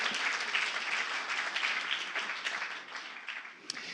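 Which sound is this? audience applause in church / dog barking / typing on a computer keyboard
audience applause in church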